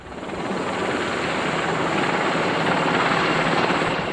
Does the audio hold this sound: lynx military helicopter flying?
yes